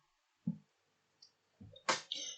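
Enter key pressed on a computer keyboard while coding HTML in VS Code, a few soft close clicks and taps spaced out in a quiet room, with a sharper keystroke near the end and no talking.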